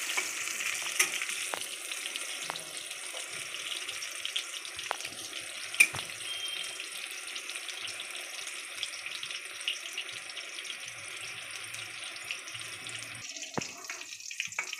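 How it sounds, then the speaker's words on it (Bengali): Food frying in a pan until lightly browned: a steady close sizzle runs throughout, with occasional sharp crackles and pops and a brief clatter near the end. "হালকা লাল লাল করে ভেজে নিচ্ছে।"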